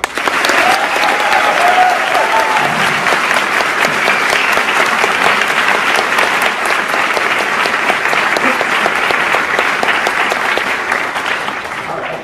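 Audience at the University of Texas at Austin applauding to welcome Ben Shapiro to a lecture, a loud, steady roar of clapping lasting throughout with crowd noise and brief voices underneath.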